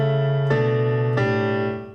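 Piano plays the descending walk-down passage of a song, three sustained chords struck about every two-thirds of a second, each stepping lower, close and clear with no voices.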